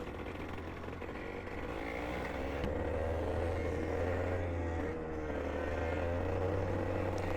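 A TT75 kart engine runs steadily with a low droning hum and a slight rise in pitch partway through, the engine reportedly oiled up and running poorly during a kart racing session.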